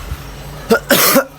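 A person with a cough gives two short, harsh coughs close to the microphone, after a moment of quiet.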